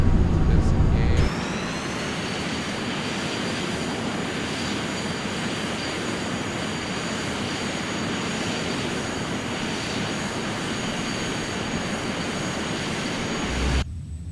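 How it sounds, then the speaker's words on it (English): A simulated airliner rolls down the runway after touchdown in Microsoft Flight Simulator X, a steady loud jet engine roar with a rumbling wheel drone, after a brief initial burst of engine noise, alone throughout. "And we are down. Nice landing."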